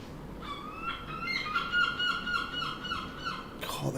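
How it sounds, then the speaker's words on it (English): Seagulls in the fishing game Fishing Planet give a drawn-out series of wavering, nasal cries, fairly loud and close, over steady ambient background noise. "God, them seagulls are loud."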